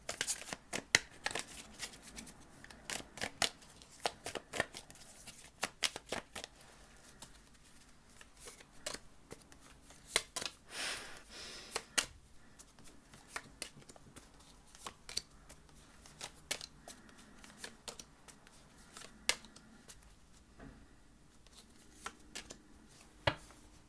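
Gilded Tarot cards being shuffled and handled, with a steady run of soft riffling and sharp flicking snaps over about twenty-four seconds, close up and fairly quiet, with no talking.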